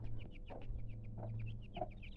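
Chickens on a farm, the largest chick among them, give a steady run of short high chirps and clucks over a constant low hum, close and moderately loud, with no talking.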